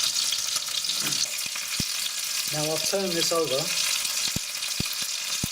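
Rabbit pieces frying in a frying pan give a steady, close sizzle throughout, with a few sharp clicks from the pan and someone speaking briefly over it.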